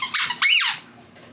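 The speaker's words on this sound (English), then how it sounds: "You got a squeaky toy too." A dog's squeaky toy gives two loud, close squeaks, the second one longer and wavering, then goes quiet.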